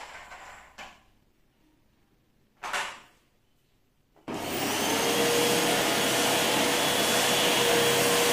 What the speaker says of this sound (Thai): เราก็จะใช้เครื่องดูดฝุ่นเอาด้วย